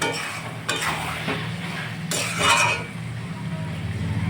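Spice paste being stirred as it fries in a pan on high heat, for a jackfruit and prawn curry; a steady close sizzle with scraping stirs and a brief clink, with a possible voice in the background.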